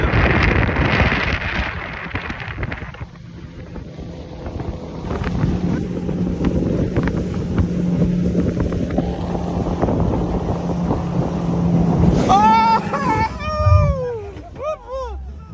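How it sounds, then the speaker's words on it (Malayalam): A speedboat racing across the backwaters at Alappuzha, with a roaring engine and heavy wind buffeting throughout, and excited voices rising over the noise near the end. "അതിസാഹസികമായ ഒരു സ്പീഡ് ബോട്ട് റൈഡിലൂടെ കണ്ണൻ ഞങ്ങളെ ജീവൻ രക്ഷിച്ച്"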